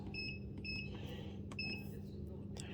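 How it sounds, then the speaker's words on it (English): Three short double beeps from a SportsArt T673 treadmill's LED console sound in a steady pattern, faint against a low background hum with a few clicks. "so that you can have the beep, which will be on or off."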